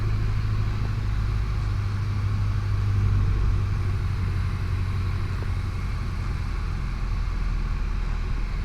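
Inside the cabin of a Luscombe light aircraft on approach, the engine idles at reduced power with a steady low drone and constant broadband rumble, with no voices.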